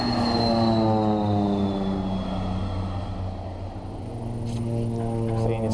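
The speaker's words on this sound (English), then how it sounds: "plane is flying really, really close to us" A low-flying crop-spraying propeller airplane drones loudly close by overhead, its engine tone shifting slightly as it passes, then swelling again.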